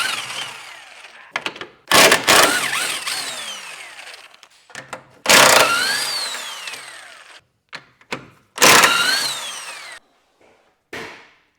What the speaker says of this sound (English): Step 1, impact gun. Step 2, 17 mil socket.